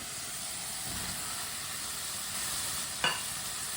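Half a kilo of chopped, washed cabbage sizzles steadily in a hot pan while a spoon stirs it, with a continuous hiss and one sharp scrape of the spoon near the end.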